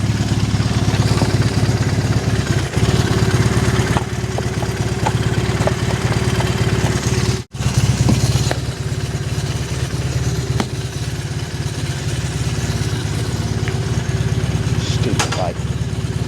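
An old motorcycle engine runs steadily after a hard start, a loud, even idle with mechanical clatter that holds throughout, briefly cut off by a short dropout in the middle.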